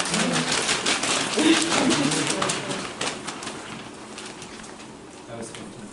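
A person imitates a bird, producing repeated dove-like cooing hoots in short bursts over a few seconds, with a crowd's murmur and voices present close by.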